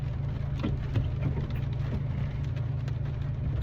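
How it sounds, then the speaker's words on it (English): Steady rain falls outside on a cold day, a constant soft hiss with faint scattered patters throughout, close and even, with no voices. "It's raining."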